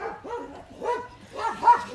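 A dog barks in a few close, moderately loud yips and woofs spaced about half a second apart, with no talk.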